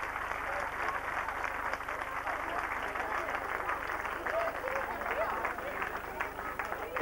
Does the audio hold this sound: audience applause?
yes